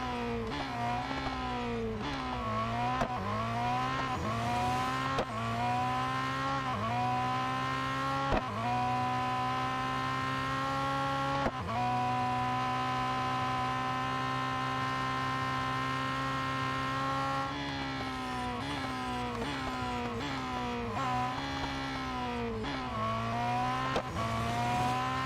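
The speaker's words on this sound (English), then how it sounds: "I do like the engine noise though," Car engine in the Real Racing 3 racing game, revving loudly and continuously with rising and falling pitch sweeps as gears shift, steady and close with no talking.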